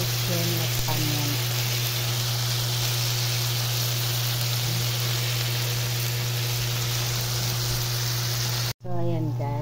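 Bacon sizzles steadily in a hot pan as part of a chicken and broccoli dish, a dense continuous frying hiss with a low steady hum underneath and brief voices near the start and end.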